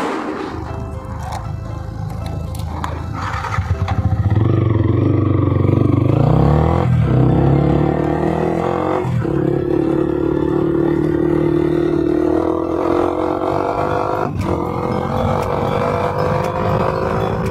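Modified Yamaha R15 sport bikes rev and ride off one after another, engines rising and falling in pitch as they pull away and pass, loud and close with revving through the whole stretch.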